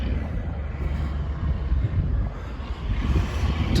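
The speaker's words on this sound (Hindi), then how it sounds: "ठंडी ठंडी हवा चली रही है" Cold wind blows across the Rathoa Haryam Bridge site at Mirpur, Kashmir, a steady, loud, low rumbling gust that buffets the microphone continuously throughout.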